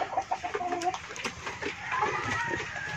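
Chickens, including Texas and Black Australorp birds, cluck and squawk up close in a busy flock, with overlapping irregular calls over a noisy farmyard background and a faint voice mixed in.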